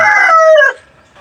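A single loud crow from a white-legged sweater gamecock brood cock, close by, ending abruptly into near quiet.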